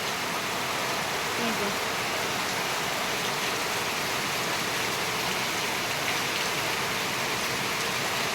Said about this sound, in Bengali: তোমাদের তো দেখালাম যে আজকেরা কি পরিমাণে বর্ষা হচ্ছে